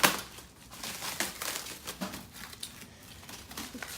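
Plastic packaging is pulled off new car headlight assemblies for an old Mercedes, giving soft crinkling and rustling bursts in an irregular rhythm, close and fairly quiet.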